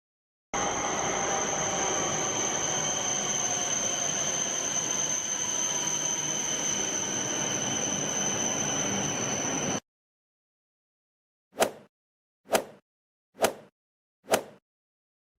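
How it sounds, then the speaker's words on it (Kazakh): A blue cartoon metro train runs in a steady, loud continuous rumble with a high whine for about nine seconds, then cuts off; after a pause, four evenly spaced sharp clacks follow. "Бұл көк түсті метро."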